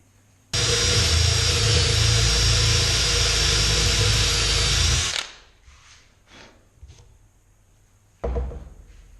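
A loud power drill whirs steadily for about five seconds drilling into a wooden branch, then cuts out, followed by quiet scraping and handling noises and a brief burst near the end.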